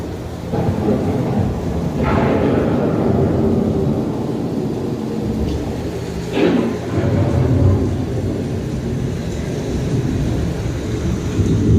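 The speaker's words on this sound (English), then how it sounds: "The approaching storm may seem violent and destructive to us, but to nature, it's a new beginning in the cycle of life." A simulated thunderstorm on Epcot's Living with the Land boat ride, with loud rumbling thunder and steady rain-like wash, two sharp thunder cracks standing out against the continuous storm noise.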